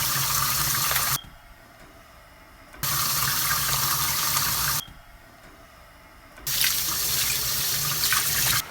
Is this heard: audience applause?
no